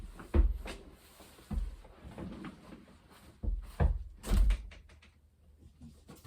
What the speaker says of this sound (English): we have somebody knocking at the door